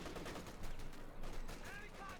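Sustained MG34 machine-gun fire from the Company of Heroes 2 battlefield, a dense, continuous rattle of bursts mixed with other gunfire at steady loudness, with a commentator's voice faintly under the din.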